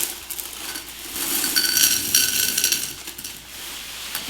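M&M candies poured into a container of homemade snack mix, a bright, dense rattle of small hard pieces clattering against the container for a few seconds, close and fairly loud.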